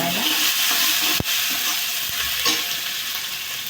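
Onion stir-fried with salt in a pan sizzles loudly and evenly, with a sharp spatula knock early on and scraping stirs throughout.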